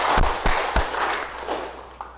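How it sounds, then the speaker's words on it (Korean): A church congregation claps in thanks during a Sunday worship service, with a few loud thumping claps up close and a softer wash of applause behind them that fades away. "우리 하나님께 감사 박수 올리겠습니다"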